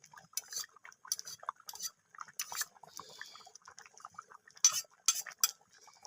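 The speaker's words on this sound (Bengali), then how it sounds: "তো ঘিটা দেওয়ার পর আমি আবারও নাড়াচাড়া করে মিশিয়ে নিচ্ছি।" Ghee being stirred into khichuri in a metal pot with a spoon, giving scattered clinks and scrapes of spoon against pot in short bursts, close and moderately quiet, with no talking.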